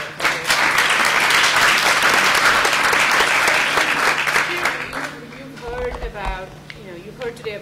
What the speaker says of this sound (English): Another round of applause for all our speakers today.